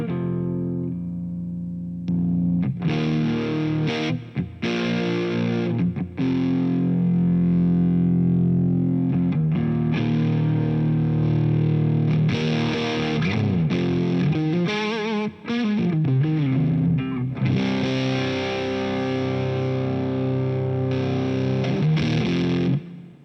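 An electric guitar plays crunchy overdriven riffs through an ACLAM Cinnamon Drive pedal with its boost side engaged, giving a loud 70s-style crunch tone with short pauses between phrases.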